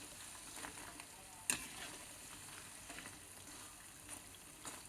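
Eggless mini puffs frying in oil over a medium flame, a faint, soft, steady sizzle with a single sharp tap near the start and a few gentle bubbling bursts.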